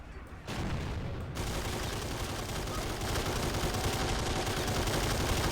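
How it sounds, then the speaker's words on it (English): Sustained, dense machine-gun fire in a video game battle defending a bridge, a continuous loud rattle of rapid shots that keeps going without pause. "This machine gun here is the only thing keeping the Rust Belters from defeat."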